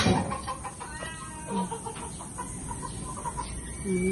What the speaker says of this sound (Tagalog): Mga chik-chik namin oh. Malalaki na sila guys.